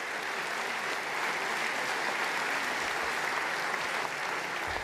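Audience at a political party rally in Port-Marly applauds at length, a continuous broad roar of clapping hands held at a steady level throughout, with no speech on top.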